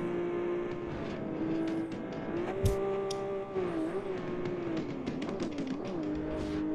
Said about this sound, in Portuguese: Apesar que o meu carro tá legal de dirigir assim, ele meio que derrapando.